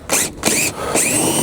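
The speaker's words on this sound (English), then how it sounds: "I put a pilot hole in there, and this is a 1/4 inch" Power drill boring a 1/4 inch hole through a plastic fender extension on a Jeep Gladiator Rubicon, close and loud, whining in short pulsing bursts with a brief pause between.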